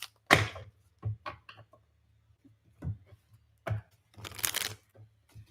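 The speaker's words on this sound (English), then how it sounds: "Couple more shuffles, Leo. Couple more shuffles." Tarot cards being shuffled in short riffling bursts, a louder one at the start and several quieter ones separated by pauses, heard close and alone.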